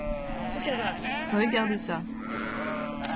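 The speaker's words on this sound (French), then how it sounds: "voilà que nous tombons sur tout un troupeau de moutons" A flock of sheep bleats along a roadside in green pastureland in Xinjiang, several wavering cries rising over steady background noise while a person speaks over them.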